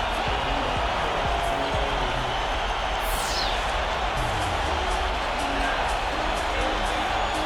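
Steady roar of an arena crowd cheering in NBA 2K14 before a Knicks playoff game, a dense continuous wash of fan noise throughout with a faint announcer-like voice underneath.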